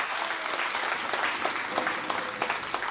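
Steady crowd applause fills the room at a poetry slam as a judge is welcomed, with a few sharper individual claps standing out near the end.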